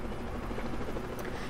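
A helicopter ride in the shipping-company game Transocean gives a continuous dense rotor and engine roar, steady and loud with no pauses.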